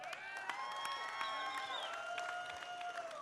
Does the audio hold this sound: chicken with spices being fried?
no